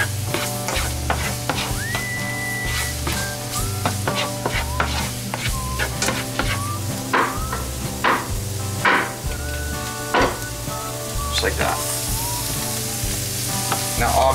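Mushrooms sizzling in a frying pan with a utensil stirring and scraping steadily, constant close frying hiss under repeated clacks, and a brief murmur from someone nearby.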